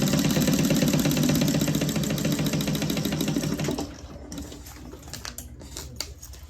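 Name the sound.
sewing machine basting fabric in place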